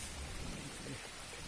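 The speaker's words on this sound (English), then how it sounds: "But the problem is started raining." Rain falling in a jungle near a river: a faint, steady hiss of drops with a soft low rumble underneath, continuous throughout and without any voices.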